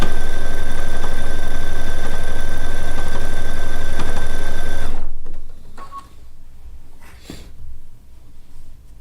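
A sewing machine runs loud and steady for about five seconds while stitching quilt binding, then stops, leaving quieter handling sounds and faint room noise.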